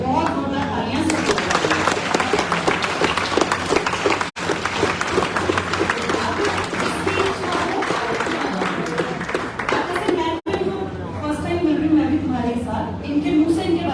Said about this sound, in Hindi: बहुत जोरदार तालियां से